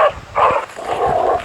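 A companion dog barks in the zombie video game Into the Dead, giving a few close, sharp barks in quick succession, with no talking.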